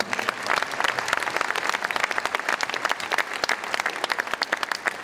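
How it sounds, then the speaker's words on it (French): Audience at a rugby league tribute event gives dense, steady applause for Jean-Paul Dupré, a sustained wash of clapping with no talk. "que je vous demande quand même par politesse d'applaudir"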